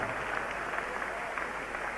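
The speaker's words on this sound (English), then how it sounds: "For a big round of applause, 23 big shows." A crowd at a kickboxing event claps steadily in a dense, even wash of applause, brief and moderately loud, with no voices standing out.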